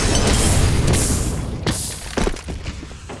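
A flashbang grenade bursts in a tactical shooter game, a loud broadband blast that rings and decays over a few seconds, followed by a couple of fainter thuds.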